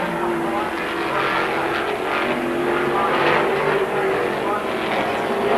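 Loud, continuous engine roar of a sports sedan race car at speed at Wanneroo in 1982, high and buzzing, dominating the whole stretch with a slight swell partway through.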